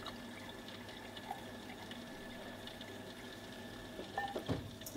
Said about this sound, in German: Funktionswasser fließt heraus.